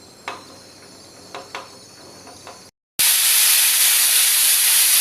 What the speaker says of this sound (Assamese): এয়া চাওক, মোৰ 2টা চিটি আহি গ'ল